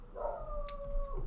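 A dog indoors gives a single drawn-out whining howl, moderately loud and lasting about a second, with no speech over it.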